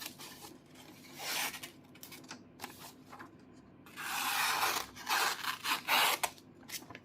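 A Tuya Be Seaxy pocket seax knife with its factory edge slices through paper, a few rasping, scratchy cuts of varying length with a long gritty stroke near the end, close and quiet with no talk.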